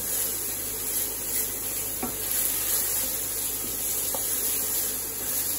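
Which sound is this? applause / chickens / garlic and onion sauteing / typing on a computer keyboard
garlic and onion sauteing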